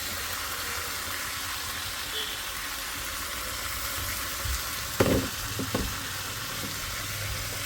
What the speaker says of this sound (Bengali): এই জন্য বেগুনটা তো ভাজা নিচ্ছি এখানে